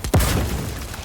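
A grenade blast in the video game The Outer Worlds 2: one sharp, loud boom right after a brief lead-in, then a rumbling tail that slowly fades over the remaining second.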